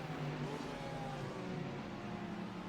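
GT3 race cars, a Mercedes and a Porsche, battling side by side into a turn at Virginia International Raceway, their engines a steady, loud, dense roar throughout with no gaps and no voices.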